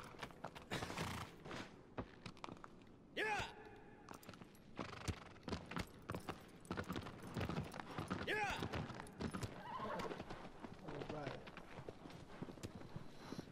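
A horse's hooves clip-clop in quick, uneven bursts in Shadow of the Colossus, trotting and stopping, with a person talking over the steps.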